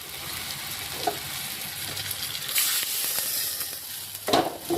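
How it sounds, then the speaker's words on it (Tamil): Boiled crab drops into hot oil for crab soup, and a steady sizzle and frying hiss continue with a few stirring scrapes and a louder burst near the end. "வேக வச்ச நண்டை போட்டேன்."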